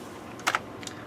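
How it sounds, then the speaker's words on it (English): A computer keyboard's keys are pressed in two quick, close clicks, then a lighter tap, set against a quiet room hum while setting BIOS defaults on a computer build. "Now we're going to push the F10. Get down here on my keyboard."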